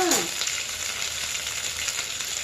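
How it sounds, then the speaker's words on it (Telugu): Brown rice frying in a pan until golden, a continuous bright sizzle with a brief scraping stir at the start, steady and close. "కాస్త 3 నిమిషాల సేపు దాకా దోరగా వేయించుకోవాలి"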